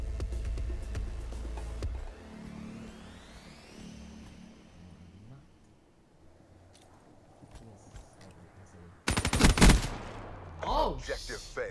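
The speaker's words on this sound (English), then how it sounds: "Freaking machine gun." Call of Duty: Black Ops III machine gun fire in a multiplayer match, rapid bursts with thudding impacts and game effects, then a loud, dense volley near the end, with a voice talking briefly over the action.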